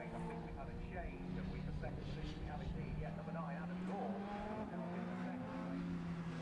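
Race car engines roar and rev steadily at Oulton Park, pitch rising and falling as cars work through a chicane, with a commentator talking over them throughout.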